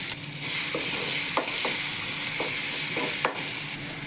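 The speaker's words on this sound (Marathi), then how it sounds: "तेल तापलेले आपण आता मिरची टाकू मिरची मिरची चांगली परतून घ्यायची तेलामध्ये" Green chillies frying in hot oil, a steady bright sizzle throughout with a handful of soft scraping and tapping stirs, close and fairly loud, no voices.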